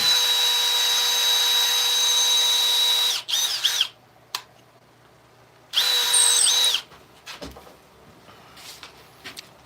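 A power drill boring into wood whines loudly for about three seconds, stops, then spins again in a shorter burst, with clunks and handling noises between.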